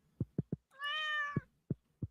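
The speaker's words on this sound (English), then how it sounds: "Pet the cat, make the cat happy." A cat in Stardew Valley gives one clear, drawn-out meow between soft rhythmic thumps, like a steady heartbeat pulsing before and after it.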